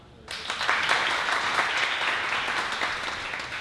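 Audience applause at a technical conference talk on zero-knowledge cryptography, starting abruptly after a brief quiet moment and then holding as loud, dense, sustained clapping from the room.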